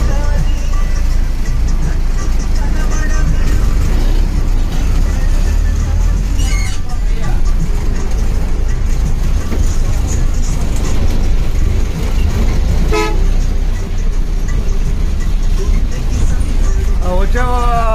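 An APSRTC bus station with road traffic rumbling and bus engines idling under constant crowd babble and talk, one or two short horn-like tones rising above the din.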